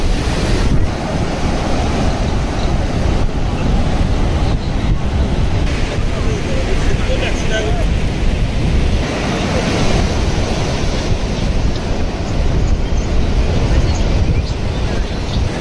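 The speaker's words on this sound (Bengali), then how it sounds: "আমার পেছনে রয়েছে এই বিশাল বিশাল ঢেউ পুরী সমুদ্র সৈকতে।" Big ocean waves at Puri beach make a loud, continuous roar of surf, with heavy wind buffeting the microphone throughout and no clear voices.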